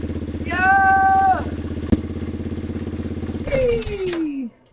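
A Kawasaki KLR650 motorcycle engine on its first start after an engine swap, running without coolant, chugs in a fast, even idle. Loud tonal whines and a sharp clack ride over it before the engine cuts out abruptly.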